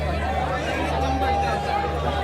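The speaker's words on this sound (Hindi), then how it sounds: "खतरनाक भीड़ बन गई है।" Dense crowd babble fills a busy Indian railway station, a steady wash of many overlapping voices close by with constant background hubbub and no single voice standing out.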